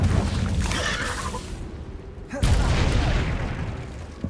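Confringo blasting spell explosions in the Hogwarts Legacy video game, two loud, dense booming blasts with rushing, roaring tails, the second striking sharply about midway after a brief lull.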